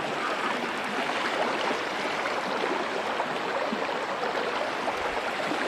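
Fast-flowing floodwater rushing through a mountain area after heavy rains, a steady, dense roar of water that stays constant and loud throughout with no voices.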